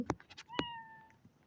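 A cat gives a few short meows close by, one clear drawn-out meow standing out among quick softer chirps, quiet overall in a calm room.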